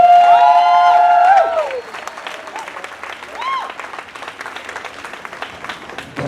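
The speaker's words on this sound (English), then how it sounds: "Give them a round of applause, folks." A live audience applauds at an event, with a burst of clapping that fades quickly, mixed with a voice and some crowd noise before the room settles.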